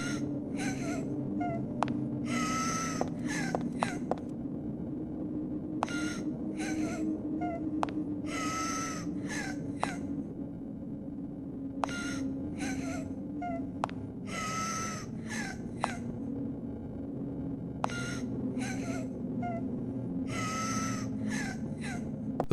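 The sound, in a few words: crying sounds in a hallway, Silent Hill 3 video game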